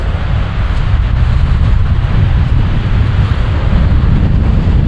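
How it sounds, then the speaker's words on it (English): Surf washes onto a beach under strong buffeting wind, a dense continuous rumble and hiss that stays loud and close throughout with no voices. "this is whatever the name of the beach is"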